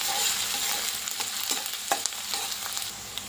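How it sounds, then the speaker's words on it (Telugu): Finely chopped large onion and two green chillies fry in oil toward golden, a bright, dense sizzle close up with scattered crackles and spoon stirring taps, no voices. "పెద్ద సైజు ఉల్లిపాయ చిన్న ముక్కలు కట్ చేసి రెండు పచ్చిమిర్చి గోల్డ్ కలర్ రావాలండి గోల్డ్ కలర్ వచ్చేంత వరకు వేయించుకోవాలి"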